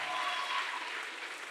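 A church congregation claps together during a sermon, a dense, even spatter of many hands sustained at moderate loudness for a second and a half, with no voices over it.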